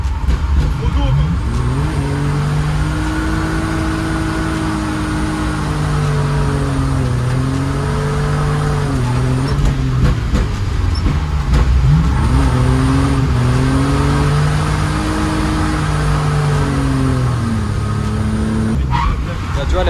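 A car engine revs hard during drift driving, its pitch rising and falling in steady surges as the throttle is worked, loud and continuous with voices talking over it.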